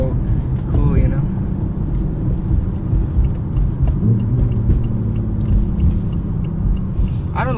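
A BMW i8 supercar's engine rumbles low and steady while driving, with a pitch shift near the four-second mark as it changes gear quickly into fourth; someone talks over the engine throughout.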